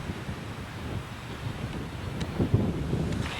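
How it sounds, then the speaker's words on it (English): Steady wind buffeting a microphone at the South Dakota visitor center, a low rumbling roar that swells slightly toward the end, with no voices. "It's very windy here."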